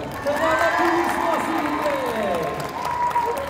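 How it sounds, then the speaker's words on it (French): Crowd at the Paris Manga 2022 convention showcase applauding a guest, a loud sustained wash of clapping mixed with cheering and shouted voices over some tonal sound in the hall. "je vais vous demander d'applaudir, mesdames et messieurs, bien fort."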